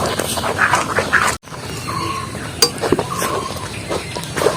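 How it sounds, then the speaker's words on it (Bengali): Raw mango jam being stirred in a pan, with soft scraping and light clinks of the spoon against the pan repeating steadily at close range, with no talking. "আর একটু নেড়ে নেবো খানিক্ষণ নেড়ে নেড়ে নেবো"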